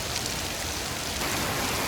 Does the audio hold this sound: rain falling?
yes